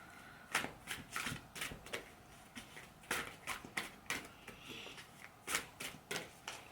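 A deck of oracle cards is shuffled by hand, giving a run of quick papery riffles and soft slaps in an irregular rhythm, close and fairly quiet, with no talking over it.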